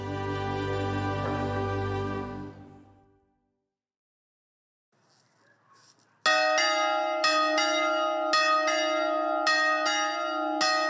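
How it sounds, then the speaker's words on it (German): Church bells on the island prison of Gorgona ring out after a stretch of other sound and a short silence, with a series of bright, sharp strikes in uneven rhythm, each leaving a ringing tail, close and loud. "läutet die Glocken"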